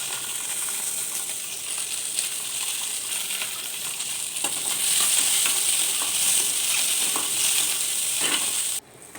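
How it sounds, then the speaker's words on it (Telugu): Green chillies fry in a pan with a steady, bright sizzle that holds for several seconds, swelling slightly louder midway before cutting off abruptly near the end, with no voices. "పచ్చిమిర్చి కూడా ప్యాన్లో వేసుకొని బాగా పచ్చిమిర్చి వేయించుకోవాలి."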